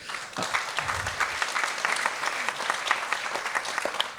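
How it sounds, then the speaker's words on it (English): A conference audience applauds as dignitaries including Boris Johnson and Mike Pompeo are introduced at an event on Ukraine, a continuous bright patter of many hands clapping at steady volume. "Applause."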